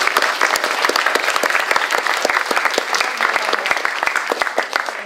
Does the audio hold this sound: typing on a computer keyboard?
no